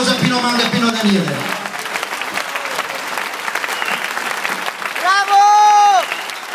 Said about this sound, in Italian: Un grande applauso a Pino Manga e Pino Daniele.